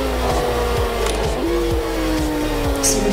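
Car engine decelerating in the racing game Test Drive Unlimited 2, a steady engine drone with a pitch that steps and slowly falls, moderately loud with no voices.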